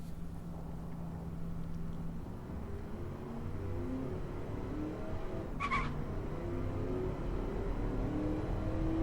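An Athena CS2 car engine in the driving game Automation pulls hard through the gears, with rising rev tones climbing steadily and a brief high squeal partway through, continuous and moderately loud.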